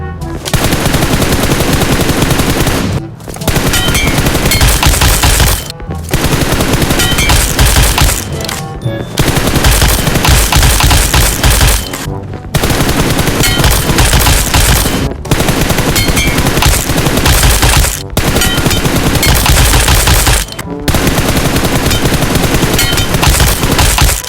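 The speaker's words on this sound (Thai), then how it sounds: "เดี๋ยวผมจะยิงให้ดูนะครับ ผมจะนั่งยิงประมาณนี้นะครับ" Gunfire in the mobile shooter PUBG Mobile, loud sustained automatic bursts fired in long strings broken by brief pauses, close and dominant with no talking.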